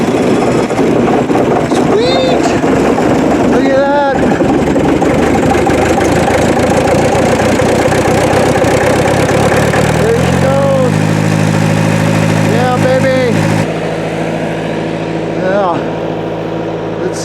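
A diesel truck engine cold-started in about 1.5 feet of snow, cranking with rhythmic churning before settling into a loud, steady low idle, with a person talking over it at times.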